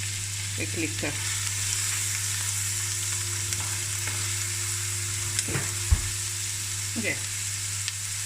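Spices for an oxtail curry, including a cinnamon stick, cardamom pods and curry leaves, fry and spatter in a pan with steady sizzling and a few sharp pops, while a voice briefly speaks.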